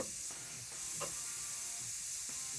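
Airbrush spraying paint to blend fish scales, a steady soft airy hiss running continuously throughout with faint bumps underneath.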